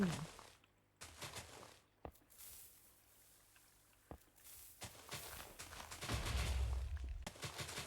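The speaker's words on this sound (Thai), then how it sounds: "ระเบิดไปเลย" Explosions destroy a village in the video game Minecraft: sharp, separate blasts, each a sudden crack, come every second or two, then a louder sustained booming rumble near the end, over faint background sound.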